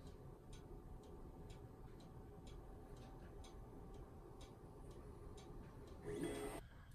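Monoprice Select Mini Pro 3D printer homing its axes: faint, regular ticking steps from the stepper motors in a quiet room, ending with a brief louder whir as the head reaches home.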